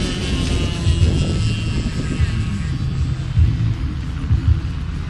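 A radio-controlled scale model airplane with retractable landing gear flies at the Paso Robles air show, its engine a steady droning rumble with crowd noise and a voice talking over it.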